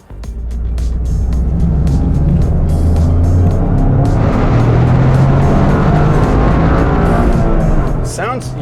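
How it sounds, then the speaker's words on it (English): A Toyota GR Corolla hot hatch with a three-cylinder engine drives under load, its loud, gruff engine note droning steadily throughout with rising and falling revs. "Sounds unique, sounds really good for a 3-cylinder."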